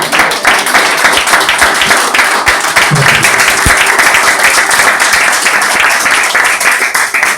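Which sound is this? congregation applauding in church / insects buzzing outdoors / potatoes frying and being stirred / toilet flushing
congregation applauding in church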